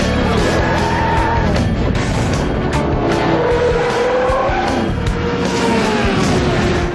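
Cartoon racing car accelerating, a loud continuous engine whine with rising and falling revs and tire squeal, holding close for several seconds.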